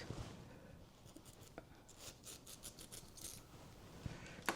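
Scissors snip through synthetic wig hair while cutting butterfly layers, giving a series of short, quiet crisp snips and rustles at close range, with no one talking.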